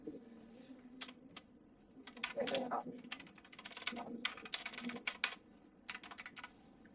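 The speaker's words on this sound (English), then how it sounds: "You can easily double click and type in" Keys clatter on a computer keyboard in short irregular bursts while text is typed, close and fairly quiet, with a voice talking faintly underneath.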